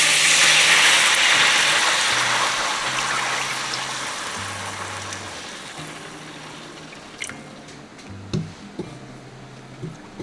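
Heavy cream pours into a hot pan of cooking shallots, a loud steady hiss and trickle at first that gradually fades, then a few soft stirring clinks near the end.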